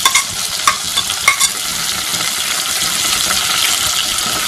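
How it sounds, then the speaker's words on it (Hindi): Okra (bhindi) fries in a pan with a loud, close hiss. A few quick stirring scrapes come early, then the sizzle settles into a dense, steady crackle. "भिंडी हमारी बहुत अच्छी तरह से फ्राई हो रही है"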